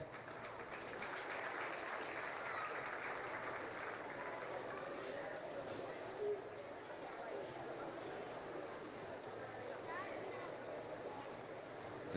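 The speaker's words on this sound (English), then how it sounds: "Give them a nice round of applause." A crowd at a county fair livestock arena claps for the kids in the show, producing a dense, steady wash of applause with a roomy, distant feel that continues evenly for the whole stretch.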